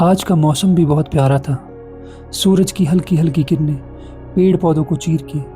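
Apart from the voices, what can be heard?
No everyday noise stands out behind the speech.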